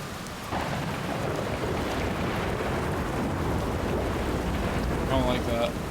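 Thunder in the space exploration game Outer Wilds: a deep, continuous rumble and roar with rain-like noise that holds steady for several seconds, and a faint voice emerges near the end.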